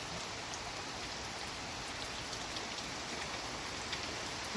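Rain falls steadily, a dense even hiss of drops on surfaces that stays constant and fairly near throughout, with no voices.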